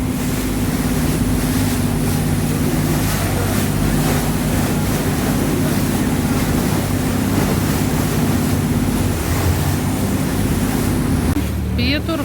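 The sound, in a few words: boat riding over waves on Bangkok river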